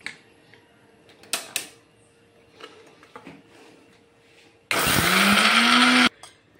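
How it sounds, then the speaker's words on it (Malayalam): A mixer grinder whirs loudly in one burst of about a second and a half, coarsely grinding a brinjal chammanthi with lentils, after quiet clicks and handling of the jar. "ഇനി നമുക്കത് അരച്ചെടുത്തിട്ട് വരാം."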